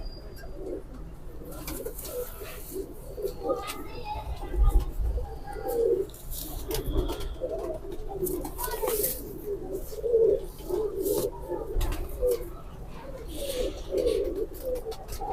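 A female pigeon coos in repeated soft, throaty rolls close by, with faint background chatter and occasional rustling between the calls.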